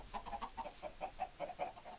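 Minecraft chickens cluck in a quick, steady run of short, soft, bubbly calls, the farm fowl sounding small and somewhat distant, with no talking over them.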